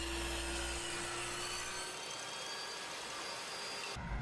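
A table saw cuts through a wood offcut fed by a push stick for an end grain cutting board, a loud steady whining roar from the spinning blade that holds evenly and then cuts off near the end.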